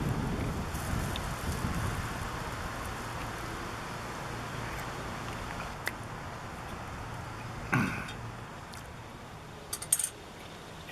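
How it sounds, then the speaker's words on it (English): Rain falls on a camper while campers shelter inside, a steady soft patter and hiss with a few sharper taps and knocks from drops striking the roof. "It's raining."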